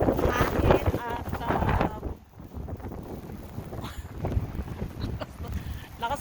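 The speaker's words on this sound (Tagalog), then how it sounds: "lakas ng hangin." Strong wind gusts during a snowstorm buffet the microphone in a steady, blustery roar, with a person speaking over part of it.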